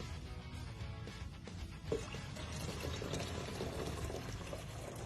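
Water pours steadily into a cocktail container for a Kool-Aid slushy, a continuous splashing gush with a brief louder splash partway through.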